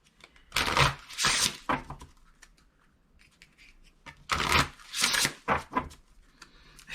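Tarot cards are shuffled in two bursts of riffling and slapping, close and crisp, with a quieter pause between them and no talk.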